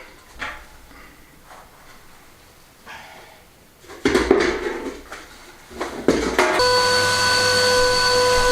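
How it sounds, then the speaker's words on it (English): Ash is emptied out of a wood stove in an off-grid home in southern Spain: scraping, clanking metal knocks and rattles, growing louder and ending in a steady grinding, scraping rasp. "So first thing we need to do is empty the ash out of it."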